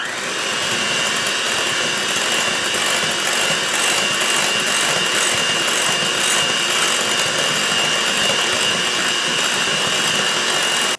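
An electric mixer whirs steadily and loudly, beating milk chocolate buttercream frosting in one bowl, a constant close motor drone with no pauses.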